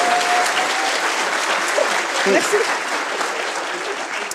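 A live audience at a maths-and-magic talk applauds a volunteer with a steady, dense wash of clapping throughout, while a voice briefly speaks over it.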